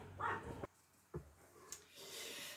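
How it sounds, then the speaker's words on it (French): Small chihuahua dogs bark in short sharp yaps, a few separate bursts with pauses between, fairly close and loud, with faint background noise after. "j'ai dû rentrer ma chienne, elle n'arrêtait pas d'aboyer. C'est les chihuahuas."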